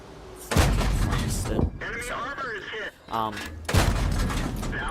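Tank guns fire in World of Tanks, with loud booming cannon blasts at the start and near the end, separated by other game sounds and a brief gap.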